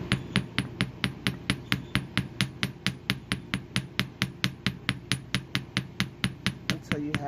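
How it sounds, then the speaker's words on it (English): A metal hammer strikes a wire wrap ring to flatten it, delivering a fast, steady series of about thirty sharp, ringing taps at close range, evenly spaced at roughly four per second with no talking. "we're going to hammer it, and I usually take the metal hammer first"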